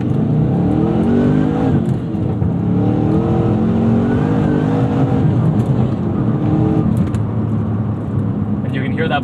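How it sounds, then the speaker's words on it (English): A 2011 Chevrolet Camaro SS with a Berger supercharger accelerating hard from inside the cabin, loud steady engine roar climbing through the revs with a supercharger whine layered on top. "you can hear that blower as well as you start getting higher in the rev range"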